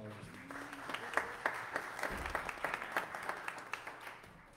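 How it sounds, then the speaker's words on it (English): A modest round of clapping from a small church congregation for the musicians, steady and fairly quiet, with a few individual claps standing out. "Let's give our musicians a round of applause."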